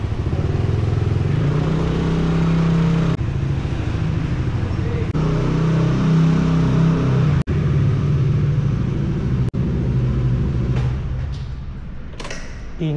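A motorcycle exhaust pipe roars loudly and steadily for several seconds with rough, throaty rumble and clatter, mixed with road noise, and it eases off near the end.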